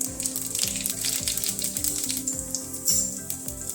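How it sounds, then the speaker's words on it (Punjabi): Cumin seeds sizzle in hot mustard oil in a pan, giving a soft, steady crackle with quick popping ticks, close by and fairly quiet, with no talking. "ਜੀਰਾ ਤੜਕਿਆ ਗਿਆ"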